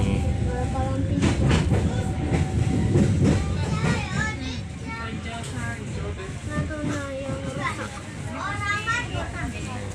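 Passenger train rumbling steadily along the rails on the Rajabasa service from Lampung to Palembang, heard from inside a carriage, with continuous low rolling noise under nearby talk and voices throughout.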